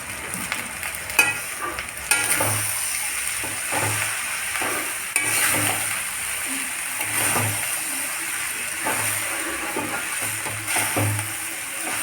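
Rice being stirred and scraped into potato masala in a hot pan, with steady sizzling under repeated spoon strokes, close and alone throughout.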